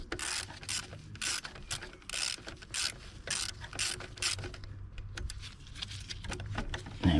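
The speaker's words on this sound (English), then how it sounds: "So very carefully we can get this bracket bolted in" A ratchet wrench tightens a bracket bolt on the engine of a Mercedes W126 560SEL, giving repeated close bursts of sharp clicking with short pauses between strokes.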